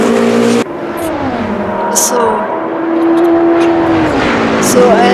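A Porsche race car engine from the Automobilista 2 racing game drones loudly and steadily, its pitch rising through upshifts and falling as it brakes, with a voice talking over it throughout.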